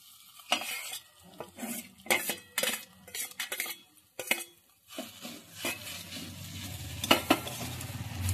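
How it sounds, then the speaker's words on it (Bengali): A spoon stirs boiled potatoes through a pan of drumstick cutlet mixture with the gas off, giving irregular scraping and clinking strokes close by, with a faint low hiss underneath. "ভালো করে আলুটা মিশিয়ে নিচ্ছি"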